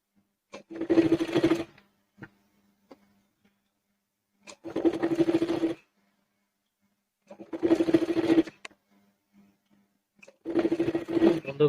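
A sewing machine stitches piping onto a sleeve in four separate runs, each lasting about a second, with a steady, close whir and short pauses between them.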